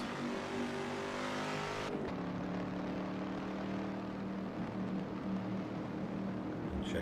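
A race car in the Assetto Corsa game accelerates down the back straight at Sebring International Raceway, its engine a loud sustained roar that shifts pitch around two seconds and then keeps building.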